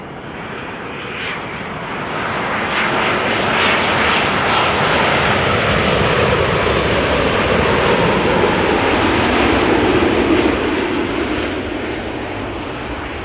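A three-year-old Boeing 787-10 Dreamliner arrives at Amsterdam Schiphol on runway 06 after a flight from New York JFK, its broad jet roar swelling to a loud peak, holding, then easing off as it passes.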